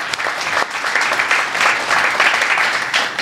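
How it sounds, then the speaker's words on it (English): A studio audience claps steadily and loudly, a thick, even wash of many hands that holds throughout with no pauses. "You can clap for that"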